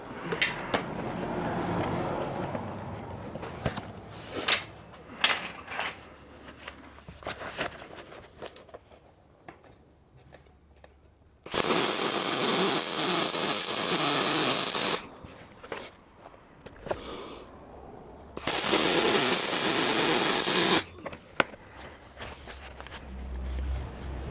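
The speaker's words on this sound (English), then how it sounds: "let's grab the old spool gun and have a crack at welding her up" A spool gun welds the steel frame of a slide-out solar panel rack, with two loud, steady crackling hiss runs of a few seconds each, set between quieter shuffling and handling noises.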